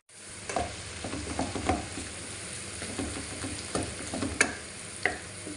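Mushrooms frying with garlic in a pan, a steady sizzle with occasional sharp crackles and stirring scrapes, close and alone with no talking.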